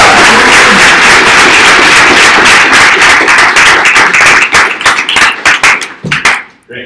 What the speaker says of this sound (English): huge round of applause to the person that makes this happen here